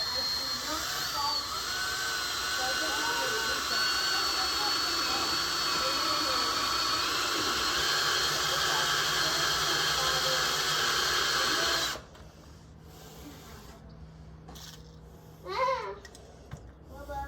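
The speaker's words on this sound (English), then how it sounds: "got our holes drilled" Power drill boring holes to mount a boat's skeg guard, a steady whining drone for about twelve seconds before cutting off, followed by brief clatter and handling noises.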